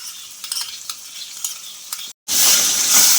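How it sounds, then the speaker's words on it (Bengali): Catla fish pieces with curd being stirred in a sizzling pan, soft scraping strokes over a quiet fry, then a brief gap before loud, bright sizzling bursts up close. "দই দিয়ে নাড়া হয়ে গিয়েছে"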